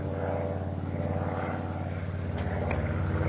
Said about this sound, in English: Gee, look at that big new plane up there.